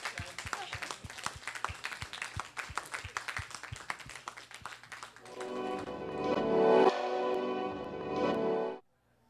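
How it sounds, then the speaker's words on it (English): A studio audience applauds the charity team on a talk-show set: dense, steady clapping for about five seconds, then a swell of music that cuts off abruptly at the end. "So let's give a big round of applause to the whole team."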